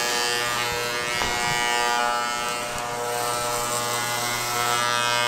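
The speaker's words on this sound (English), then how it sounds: "I'm getting my head shaved." Electric clippers shaving a head, a loud close steady buzz humming continuously with slight changes as the blade moves across the scalp, no talking over it.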